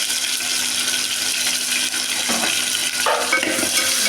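Tomato and onion sizzle with green chillies and mustard seeds in a hot pan, giving a steady, close frying hiss with a few short scraping stirs near the end.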